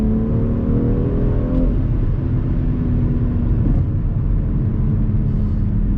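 A BMW X4 accelerates hard under automatic transmission, its steady engine roar and rumble rising through quick successive gear shifts, close and continuous with no talking.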